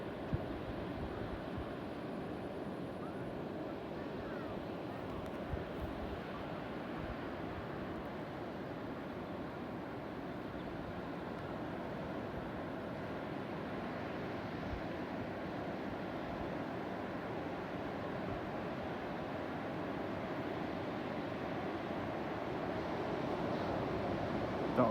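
A tidal bore surging up a river as a head of water, heard as a low, unbroken roar of churning water and wind that stays fairly faint and constant throughout.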